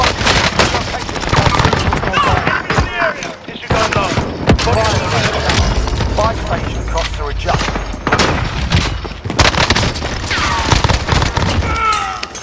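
Heavy gunfire in the video game Call of Duty Warzone, shotgun blasts among rapid bursts of shots, loud and close, over game sounds and a player talking throughout.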